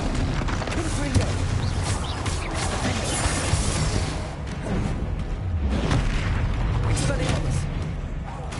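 Confringo blasting spells exploding in the Hogwarts Legacy video game, with booming, crashing blasts in repeated bursts amid combat noise. A voice talks over the blasts.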